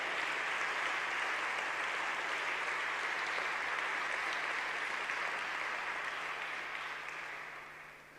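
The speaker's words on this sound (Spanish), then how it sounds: "Denle un aplauso al Señor" A church congregation applauds their Lord during a sermon, a dense steady wash of many hands clapping at full level that holds for several seconds before easing off slightly at the end.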